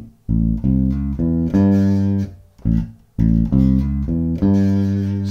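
A solo bass guitar plays the first half of a blues unison line, slowly and clearly, in a few separate phrases of plucked notes with short pauses between them.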